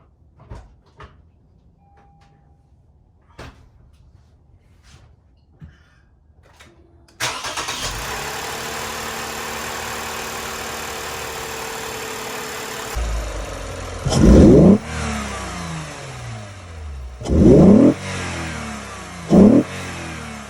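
A 2015 Lexus IS250 F Sport engine fitted with a newly installed intake starts after some faint clicks, settles into a steady idle, then revs loudly three times in sharp bursts, close up with no talk.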